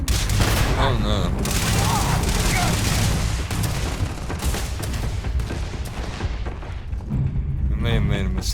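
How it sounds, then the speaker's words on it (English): Grenade blast and heavy gunfire in the sci-fi shooter Starfield, with dense bursts of explosions and shots filling the scene, loud and chaotic, under brief voices. "Throwing a grenade!"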